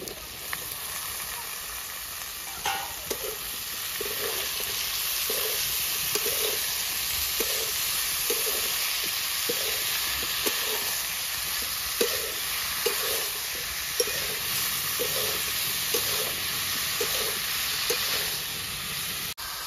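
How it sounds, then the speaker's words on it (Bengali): Mushrooms are added to a pan of sautéed potatoes, and a continuous close sizzle follows. Regular soft taps from a stirring spoon repeat through it, with no voices. "তো আমার আলুটা অনেকটা কষানো হয়ে গেছে, এবার আমি মাশরুমটা দিয়ে দিচ্ছি।"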